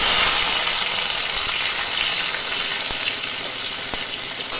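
Tomato added to hot oil with cumin and dried chilli for khichuri, a loud, continuous hiss of frying with a couple of faint knocks, steady and close, no voices.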